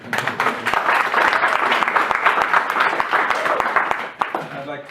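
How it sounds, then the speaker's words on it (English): A crowd breaks into applause at the dedication of a new computer lab at Detroit Lions Academy, a dense, steady clatter of many hands lasting about four seconds before tapering off. "we'll give him a round of applause"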